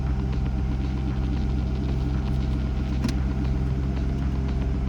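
An Infiniti G35 with a starter issue idles steadily, a constant low engine rumble that stays level and close throughout, with a faint click near the middle and no talking.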